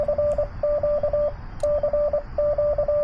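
Amateur radio CQ call sent in Morse code at 100 watts on the 20-meter band during a Parks on the Air activation: a steady, clear keyed tone beeping in quick rhythmic bursts of dots and dashes, with short pauses between groups, no voices.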